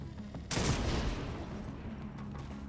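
A rogue sniper turret in The Division 2 opens fire: a sudden loud volley of gunshots that blends into sustained, rattling gunfire and echo for the remaining seconds, with no talking.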